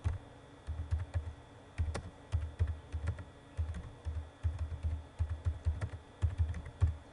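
Notes being typed on a computer keyboard: quiet, close bursts of rapid key clicks with short pauses between words, alone with no talking.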